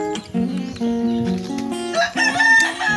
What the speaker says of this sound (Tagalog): Ayan, maraming manok dito si tatay.